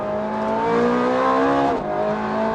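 A Ferrari 430 Scuderia race car engine screams at high, sustained revs, about 8,500 rpm in fourth gear, its pitch climbing then briefly dipping as it shifts, loud and close throughout.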